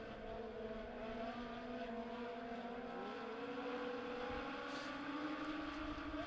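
Legend cars race in a close pack on the Springfield Raceway dirt oval, their engines droning steadily from a distance with rising and falling pitch as they run laps together, loud and continuous throughout.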